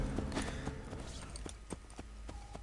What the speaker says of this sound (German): Und das Pferd läuft einfach weiter.